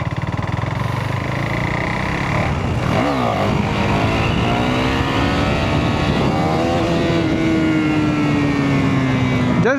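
A KTM Duke 390 motorcycle engine roars and revs hard during a power wheelie, pitch dipping then climbing again as the throttle opens before landing, loud and close with steady mechanical rumble.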